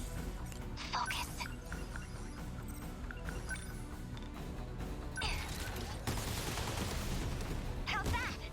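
Sentry guns fire in rapid bursts during a battle in the video game 13 Sentinels: Aegis Rim, the clattering volleys mixed with voices talking over the action.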